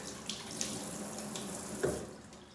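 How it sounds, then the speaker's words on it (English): Tap water runs steadily into a sink while someone washes their hands, a close, continuous splashing hiss with a few faint knocks. "Wash my hands real quick."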